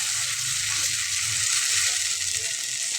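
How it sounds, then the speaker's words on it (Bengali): Blended tomato hitting fried onions in a hot pan, a steady bright sizzle and crackle with soft bubbling underneath, close and continuous without any talking. "ঠিক তখনই আমি এখানে টমেটো ব্লেন্ড করে নেওয়াটা দিয়ে নিচ্ছি, দিয়ে একটু কষিয়ে নেব।"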